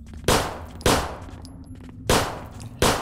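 Four loud, booming shotgun blasts ring out in the zombie survival game Zompiercer. Each one is spaced roughly a second apart and fades out with a metallic tail.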